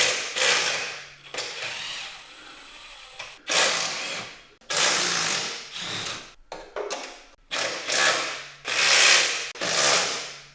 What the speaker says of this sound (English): we're going to go ahead and remove the 3 E16 bolts here